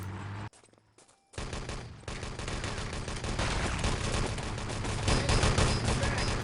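Dense gunfire in a Wolfenstein: Enemy Territory 6on6 LAN tournament match, rapid overlapping automatic bursts and explosions after a short quiet gap, loud and constant, with a commentator's voice faintly underneath.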